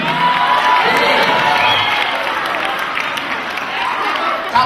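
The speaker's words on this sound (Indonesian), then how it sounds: "Tepuk tangan." Audience applause mixed with crowd cheering and children shouting, a dense, steady roar of clapping and voices lasting throughout without a break.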